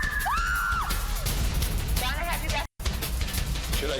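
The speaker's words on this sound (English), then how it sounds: "Did I hear 2 screams?" Screams ring out during a paranormal investigation TV show, with sharp high wailing cries near the start and again around the middle over constant low rumble and murmuring voices, broken by a brief dropout.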